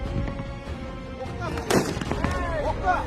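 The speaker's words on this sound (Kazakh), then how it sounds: "Өздерімен бірге алып жүрген қарудан оқ атылуы тиіс." Gunfire from automatic rifles during a shooting test, with sharp reports and a louder crack standing out over a noisy outdoor background while voices murmur nearby.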